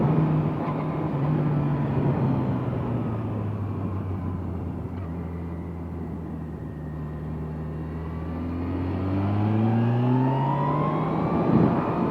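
A 2006 Yamaha FJR1300A motorcycle engine drones and rises in pitch as it accelerates out of a turn on a mountain road, a steady close engine note with a smooth climbing rev toward the end, no talk.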